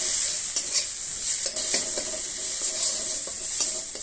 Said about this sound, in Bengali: ভালো করে এভাবে নেড়ে নেড়ে ভেজে নিতে হবে